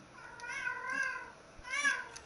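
A pet cat meows twice, close and clear, with one long drawn-out meow followed by a shorter one after a brief pause.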